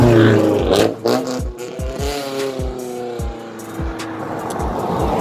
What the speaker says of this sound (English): it's a fast car driving for no reason